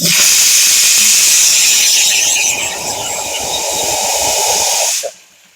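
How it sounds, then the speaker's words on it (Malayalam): A pressure cooker on a gas stove, cooking pork with Chinese potato, lets out a loud, steady, high-pitched steam whistle for about five seconds before it cuts off abruptly. No voices are heard. "ഒന്നാമത്തെ വിസൽ വന്നിട്ടുണ്ട് ഒരു വിസലും കൂടെ വരുമ്പോൾ നമുക്ക് നിർത്തിയിടാം"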